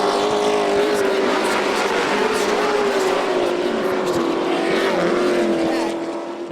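Asphalt Pro Trucks race on a Florida dirt track, their engines making a loud, steady roar with a wavering pitch that holds throughout and fades slightly at the end, with faint commentary beneath.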